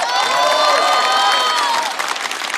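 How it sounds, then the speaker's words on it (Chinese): A talk-show studio audience breaks into loud, dense applause for actress Liu Xiaoqing, a continuous close wash of clapping with some cheering that eases slightly toward the end. "再次掌声送给刘晓庆。"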